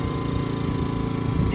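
A small pull-start engine, apparently on a detailing setup, running steadily close by, with a low rapid chugging pulse that holds even throughout.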